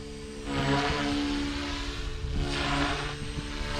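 A 300X RC helicopter flies in agility mode, its rotor and motor giving a steady buzzing whine that swells and eases as it maneuvers nearby. No voices.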